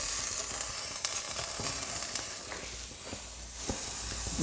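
Vegan Wowpat patties sizzle steadily in a pan over low heat, a continuous close frying hiss with a few faint clicks and small pops scattered throughout, no voices.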